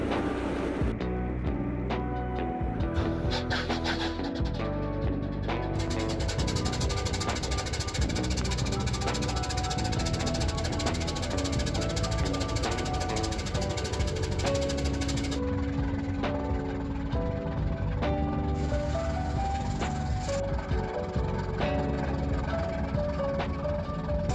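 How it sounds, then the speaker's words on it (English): A Gardner 8LX-B marine diesel engine runs on test, a loud continuous rapid knocking rhythm with mechanical clatter and a deep droning undertone, steady and close for the whole span with no talk. "Gardner 8LX-B on rail, and a 2015 test run."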